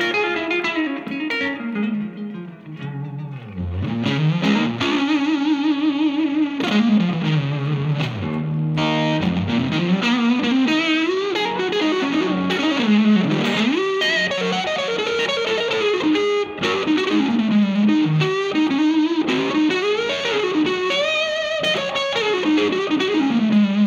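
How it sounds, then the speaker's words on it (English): Electric guitar played through an Isle of Tone Luxe 66 fuzz pedal with all dials at noon and the tone rolled off: a thick, dark, saturated fuzz with sustained chords and gliding single-note lines, loud and continuous with no talk. "So on the fuzz, all the dials are going to be at noon. Let's see what it does right now. Rolled off tone first."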